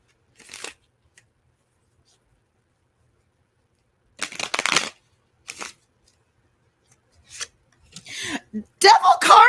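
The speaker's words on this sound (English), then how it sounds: "Let me shuffle these" Tarot cards shuffled by hand during a live reading, heard as several short riffling bursts separated by quiet gaps, the last ones louder and longer, with a voice speaking between them.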